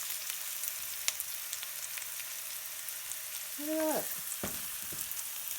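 Chicken of the woods mushrooms sauté in olive oil and butter with pink salt, giving a steady soft sizzle and crackle throughout, with a few sharp pops and a brief whistling squeak near the end.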